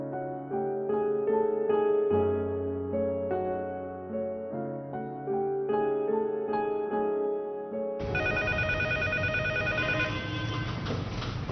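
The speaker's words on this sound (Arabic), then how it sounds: "بس التليفون ده لازم ترد عليه" A telephone rings for about eleven seconds, first a melodic ringtone pattern and then a sharper, buzzier ringing, loud and close with no talk over it.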